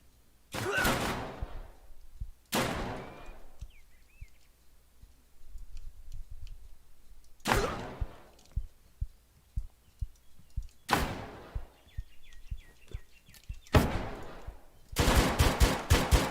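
Gunfire in the video game Deadside: several separate loud bursts of shots spaced a few seconds apart, a rapid final volley at the end, with faint ticking between.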